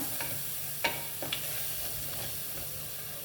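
Biryani masala is mixed in a frying pan, a steady oily sizzle with a few distinct scrapes and taps of a spoon stirring through the paste, close and unaccompanied by speech.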